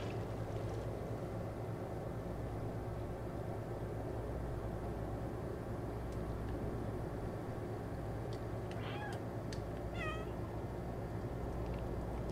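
Short meows from the cat in the video game Stray, two or three thin calls near the end over a steady low rumble of game ambience, fairly quiet and with no voices.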